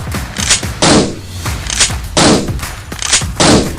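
Comic-narration gunfire effect for a Doga comic: several loud, sharp broadband bursts in a rapid irregular sequence, each with a short ringing decay, alone with no voice.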